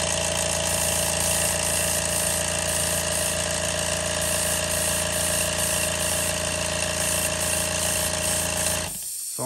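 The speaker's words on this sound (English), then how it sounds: "Sorry about that compressor. I've got a leak in it" A leaking air compressor running at close range, a loud, steady mechanical drone with constant hiss that continues unbroken before cutting off abruptly at the end.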